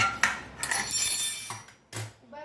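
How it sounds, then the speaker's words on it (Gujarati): A spoon scrapes and clinks against a bowl as a vegetable biryani marinade is stirred, several uneven metallic knocks and scrapes close by. "અને હવે આપણે આ મેરિનેશનને પ્રોપરલી હલાવવાનું"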